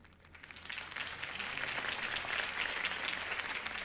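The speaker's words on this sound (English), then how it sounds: "could have heard that applause" A crowd applauds, the clapping swelling quickly into a dense, steady roar of many hands that continues throughout.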